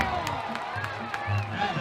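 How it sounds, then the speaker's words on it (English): A minor-league baseball crowd cheers and claps after a called third strike ends a jam, a lively roar of shouts and whoops from a distance. "The crowd erupts."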